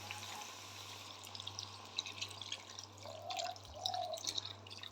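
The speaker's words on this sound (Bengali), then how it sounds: "আমি এবার এটার মধ্যে পরিমাণ মতন জল দিয়ে দেব" Water is poured into a pan of spiced chicken kosha curry, a faint wet trickle with a few splashy drips over a low steady hum, quiet and close.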